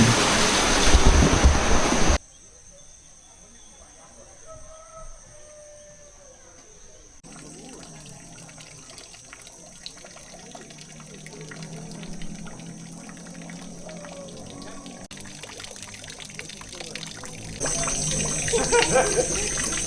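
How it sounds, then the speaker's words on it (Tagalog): River water at a spot in Bali washes and rushes steadily, rising and falling in broad noisy swells with abrupt shifts in level, heard close and fairly loud with intermittent talking over it. "Oh, may river doon no guys. May tubig doon."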